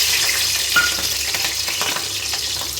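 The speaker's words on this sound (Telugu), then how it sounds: "మనం వేసుకున్న ఆయిల్ హీట్ అయిపోయింది ఇప్పుడు మనం కట్ చేసి ఉంచుకున్న పచ్చిమిర్చి వేసుకోవాలి" Green chillies fry in hot oil with a continuous bright sizzle and faint stirring scrapes, close and fairly loud, with no voices.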